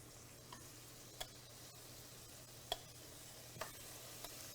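Marinated sesame peanut tempeh sizzling softly in a pan, a faint steady fry with a few light clicks of stirring, no voices.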